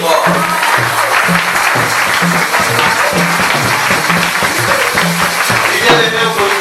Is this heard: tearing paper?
no